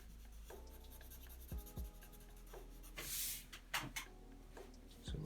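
Pencil shading dark areas of a Chainsaw Man drawing, quiet scratchy strokes on paper in short bursts with pauses between, close and soft.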